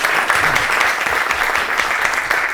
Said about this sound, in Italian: quindi un applauso anche a Francesco.